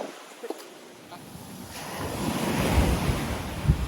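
Ocean waves breaking and washing up on Jomtien beach, building from a soft wash to a louder rolling surf with wind noise buffeting the microphone, and no talking.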